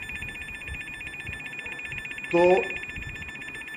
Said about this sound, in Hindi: इसके सामने कोई व्यक्ति आता है तो ये बजर बजना चालू हो जाएगा।